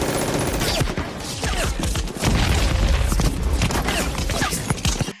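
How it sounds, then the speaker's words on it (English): Rapid bursts of MG42 machine-gun fire in the World of Warships Azur Lane video game, loud dense rattling volleys with booming impacts running almost continuously. "I will shoot you with the MG42"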